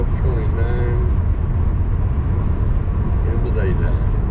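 A Buick cruises along a highway at 80 mph with a steady, loud low road and engine rumble, interior wind noise and faint voice-like sounds mixed in.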